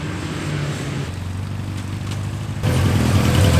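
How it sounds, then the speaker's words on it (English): A Honda Rebel motorcycle engine runs steadily while being ridden, a loud continuous mid-pitched drone that shifts tone and rises in level toward the end. "Now I'm riding the Rebel."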